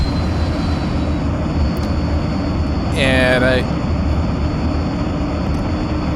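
The heavy propeller plane in a flight simulator video game drones steadily with a constant low engine hum throughout, while someone speaks briefly over it.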